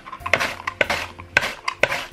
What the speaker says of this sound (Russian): Я буду нарезать на своем любимом станке. Устанавливаю режим кубики